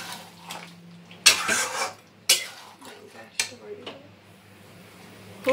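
Food is stirred in a cooking pot: a few sharp scraping strokes stand out close by, separated by quieter stretches of low background noise.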